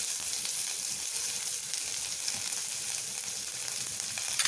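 Chopped onion sizzling in hot oil over lowered heat, for potato bonda: a faint, even frying hiss that runs throughout, with a small crackle at the very end.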